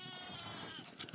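Sheep and goats bleat faintly on a high mountain farm in the Calchaquí valleys, a distant, quiet wavering cry rising toward the end amid open-air background noise.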